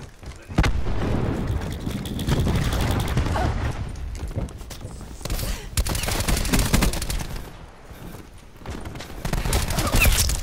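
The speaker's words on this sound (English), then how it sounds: "Throwing cluster grenade." Call of Duty Black Ops 4 combat: cluster grenade blasts and dense gunfire crash together in a loud, continuous barrage with booming low thuds and sharp cracks, briefly easing before building again.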